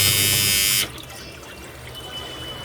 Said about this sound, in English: That's the buzzer sound.